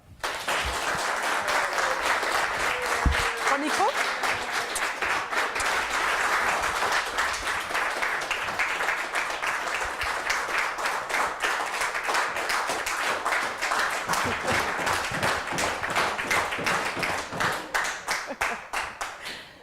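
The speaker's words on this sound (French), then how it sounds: "Et donc je vous demande d'accueillir et d'applaudir bien fort" Loud, sustained applause from an audience at a political debate event in Lille, steady clapping throughout with a brief spoken remark in French early on.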